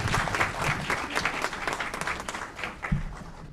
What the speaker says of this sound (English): Let's give them a round of applause. Big round of applause.